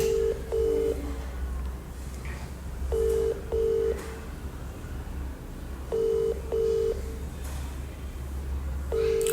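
A telephone ringback tone sounds during an outgoing call, in repeated double pulses roughly every three seconds. It is steady and clear over a low background hum, with no talking.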